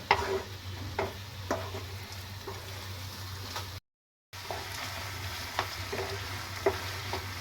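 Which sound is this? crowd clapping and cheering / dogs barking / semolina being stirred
semolina being stirred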